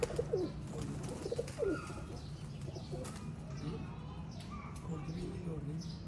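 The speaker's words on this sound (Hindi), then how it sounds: "देखो दोस्तों है जी सियालकोटी कबूतर, ब्रांड कबूतर" Sialkoti pigeons on a rooftop loft coo in soft, repeated calls over a low background hum, with a few brief wing flutters and faint talk nearby.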